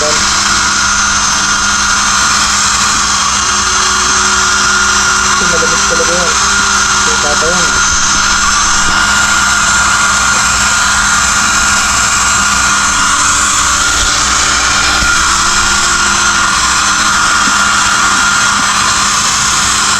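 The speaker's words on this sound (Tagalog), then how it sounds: "yung blower lang natin sila para matuyo-tuyo" A loud, steady whirring blower drying wet one-month-old puppies runs without a break, its motor whine filling the whole stretch, with faint voices now and then beneath it.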